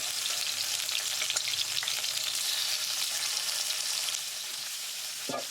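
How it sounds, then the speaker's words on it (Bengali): Loud, dense frying hiss from potatoes frying in a new iron pan, steady and close, with occasional scrapes and a clatter near the end. "এগুলো খুব সুন্দর করে ভাজা হচ্ছে"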